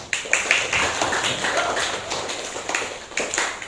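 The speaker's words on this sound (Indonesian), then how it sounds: "Tepuk tangan dulu." Children at a Sunday school church service clap their hands in a loose, uneven burst, scattered individual claps forming a light patter that continues with some irregular rhythm, fairly close and moderately loud.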